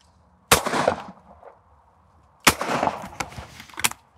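Two loud shotgun shots at clay targets on a rabbit-and-crosser stand, each a sharp blast with a decaying tail, the second followed quickly by further sharp reports, with quiet gaps between and no talk.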